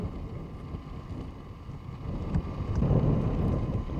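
Strong wind gusting across Hallasan mountain, a low rumbling roar that swells louder toward the end, with no voices.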